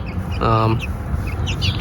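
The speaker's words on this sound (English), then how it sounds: "That breed right there, the Rhode Island Red, is the first chicken breed that I ever got chickens with." Backyard chickens, including Brahma and Rhode Island Red hens, give a short nearby clucking call over a steady outdoor background with faint chirps.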